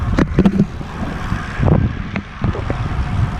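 Gusty outdoor wind buffets and roars close to the microphone in uneven surges, with no voices.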